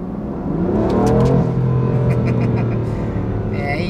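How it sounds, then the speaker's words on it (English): A 2015 BMW M4's engine revs up under acceleration on an open road, its tone climbing and rumbling steadily from inside the cabin. "let's just give it a little bit of gas"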